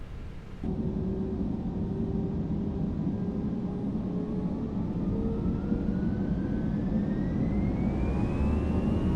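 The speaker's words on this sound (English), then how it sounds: "let's go with a rolling takeoff, I think" An airliner's jet engines spool up for a rolling takeoff in Microsoft Flight Simulator 2024: a steady, loud roar with a whining tone that climbs slowly in pitch, continuing without pause.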